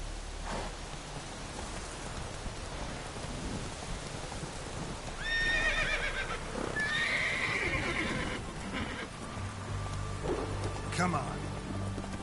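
A horse in The Witcher 3 neighs loudly mid-clip over galloping hoofbeats and a rainy backdrop, the whinny standing out clearly near the middle.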